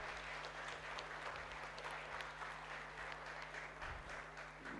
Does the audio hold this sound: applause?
yes